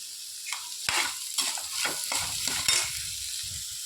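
Onions sauté in oil in a pan for a tamarind and brinjal curry, with a steady close sizzle broken by several scraping stirs of a spoon.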